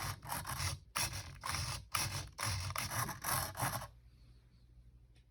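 R/C servo tray driving the elevator control surfaces of a Kraft Signature series radio system, a close rasping mechanical buzz in repeated bursts with short pauses, then quiet.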